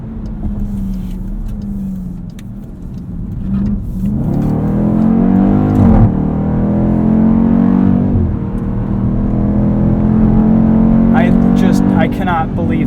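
A 2020 Dodge Durango SRT under way: a steady engine drone climbs and falls in pitch through a few revving pulls, with road and cabin noise heard close from inside.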